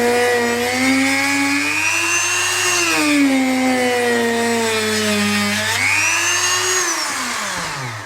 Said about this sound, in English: just remember to keep the Dremel following the die cast